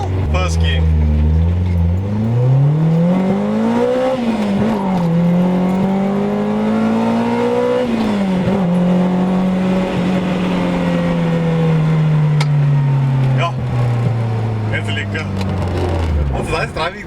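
A Nissan Sabre 200GXI pulls hard in first gear, engine note climbing steadily in pitch with a brief dip and shift before rising again, loud and close inside the car.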